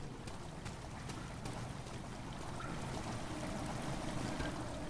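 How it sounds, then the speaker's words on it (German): In Amnesia: The Dark Descent, water pours steadily into a stone chamber as a soft, continuous rushing wash with no one speaking. "Ah, da läuft jetzt Wasser rein."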